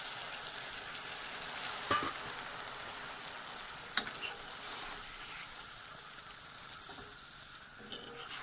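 Kochur loti (taro stolon) curry cooking in a pan as gravy goes in, giving a steady, moderately quiet sizzle with a few sharp clicks and small splashes, and no voices.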